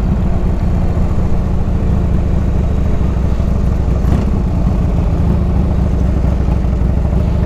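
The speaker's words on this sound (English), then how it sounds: "So I am always impressed with a nice well-running Evo motor" A 1997 Harley-Davidson Ultra Classic with an Evo engine runs steadily and loudly close by, a continuous low rumbling throb that holds an even level throughout with no talk.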